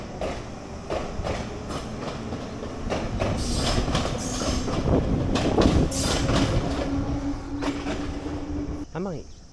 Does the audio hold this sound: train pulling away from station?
yes